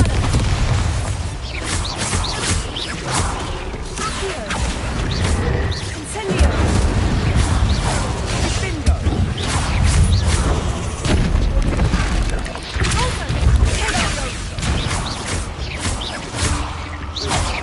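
Bombarda spell blast in Hogwarts Legacy, booming magical explosions and whooshes mixed with combat effects, loud and repeated throughout amid spoken spell incantations.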